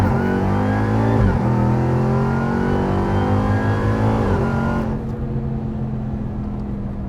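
A RAM TRX pickup rated over 1000 horsepower launches hard from 0 to 100, its engine roaring loudly and climbing through two gear shifts before the revs ease off near the end.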